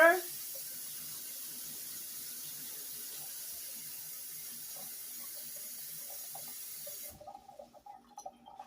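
Cold water runs from a kitchen tap into a sink while chicken is being prepared, a steady, fairly close rushing stream that cuts off near the end, leaving a few faint kitchen clatters.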